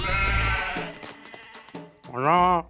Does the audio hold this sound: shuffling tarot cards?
no